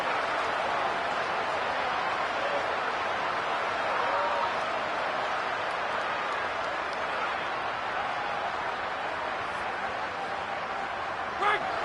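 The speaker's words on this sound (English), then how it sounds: "Decibels rising as the crowd gets behind this defense on third down." Sustained roar of a college football stadium crowd cheering for the defense on third down, loud and steady throughout with no break.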